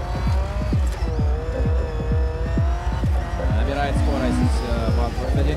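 Gymkhana race car at a winter championship event revving and accelerating with squealing tires, its engine note rising and falling steadily while an announcer talks over it.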